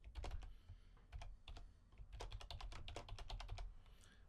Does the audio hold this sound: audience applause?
no